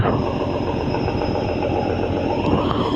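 A passenger river launch's engine at night on the river, a constant loud mechanical rumble and throbbing drone with a faint high hum above it, unbroken throughout.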